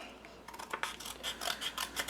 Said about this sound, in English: I'm going to grab my scissors, and I am going to go ahead and cut this out